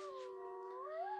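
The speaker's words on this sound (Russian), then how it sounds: "Это мой телефон воет." A mobile phone ringtone plays a smooth, sustained howling melody with gliding pitch, faint and steady on its own.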